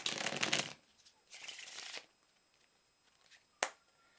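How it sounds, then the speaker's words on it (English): A deck of playing cards is shuffled for a card trick, giving two loud riffling bursts close by, then a single sharp click after a quiet pause. "First, I'll shuffle the pack."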